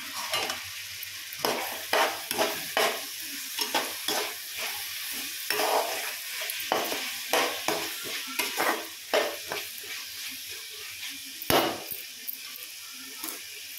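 Carrots and beans being stirred in a frying pan for an egg pulao, a steady sizzle under repeated scraping strokes of a spoon against the pan, close and fairly loud, with no talking.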